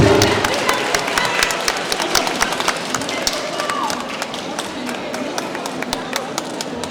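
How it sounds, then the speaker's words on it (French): Audience applauds at a manga festival contest on a Saturday, a dense burst of clapping that thins into scattered claps over several seconds, with some crowd noise and talk. "On les applaudit très fort"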